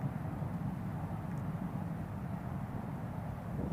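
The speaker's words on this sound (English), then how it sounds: "that's the sound of the metro line immediately behind me." Newcastle metro trains pass behind an airport, a low, steady, distant rumble that holds evenly throughout without distinct peaks or other sounds.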